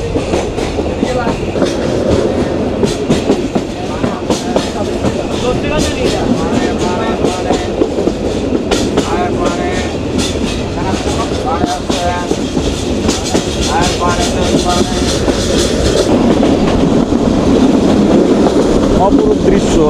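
Heard from on board, the Paharika Express passenger train from Sylhet to Chittagong runs through Bangladesh with loud, steady wheel rumble and a rhythmic clickety-clack over the rail joints throughout.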